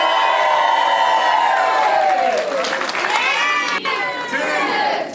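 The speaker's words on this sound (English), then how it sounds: "last cheer to finish off" Excited crowd at a Seamill Hydro event cheering and whooping loudly and continuously, high shrill voices of children and adults shouting together throughout.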